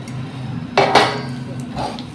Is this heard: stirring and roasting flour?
yes